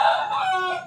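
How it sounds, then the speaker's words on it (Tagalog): A chicken gives a short, close vocal call lasting under a second, with a tonal, slightly wavering cluck-like cry heard alone. "Tatlong pirasong manok tayo dito"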